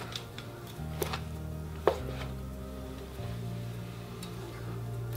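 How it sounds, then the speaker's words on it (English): A knife slices a ribeye spinalis cap into strips on a board, giving a few soft, close cuts and taps, one sharper knock, over a low steady hum. "we're just gonna go ahead and cut it into strips"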